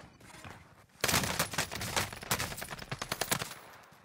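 Rapid automatic gunfire from an online shooter game erupts after a quiet second, a dense close burst of repeated shots that thins into separated cracks toward the end.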